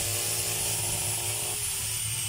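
A DeWalt DWE8200S angle grinder runs continuously after being switched on, giving a steady loud motor whine with a high-pitched hum that holds level throughout, with no talking.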